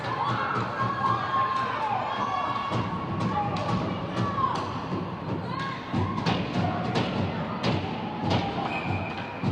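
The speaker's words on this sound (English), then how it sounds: "Very good sized crowd." A large crowd cheers and shouts at a girls' high school ice hockey playoff game in an arena. The noise is dense and sustained, with sharp thuds and bangs through it and voices carrying over the roar.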